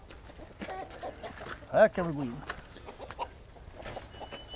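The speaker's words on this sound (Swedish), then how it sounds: "Vad kul med höns också." Chickens cluck softly at a farmyard pen at Skansen, one louder cackling call standing out amid quieter clucks while people talk nearby.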